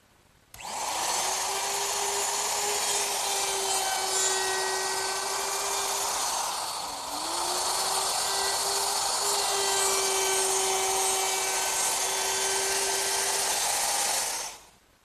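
A router fitted with a quarter-inch roundover bit, set shallow, eases the corners of wooden sofa parts, a steady high whine running about fourteen seconds with one brief dip midway, alone without talk.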